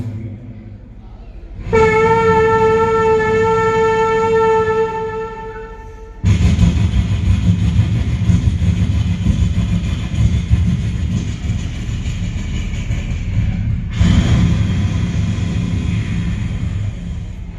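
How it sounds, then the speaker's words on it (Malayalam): A loud train arrives at a railway station, first with a sustained horn-like tone, then heavy continuous clatter and roar of rail cars, close and steady. "ഞാൻ റെയിൽവേ സ്റ്റേഷനിൽ ഇരിക്കുമ്പോൾ ട്രെയിൻ ഇങ്ങനെ വരിക"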